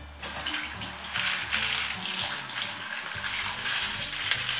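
Crumpled baking paper soaked in water in a kitchen, heard as a continuous splashing, running-water rush with crinkly rustling that swells after the first second, close and steady, with no voices.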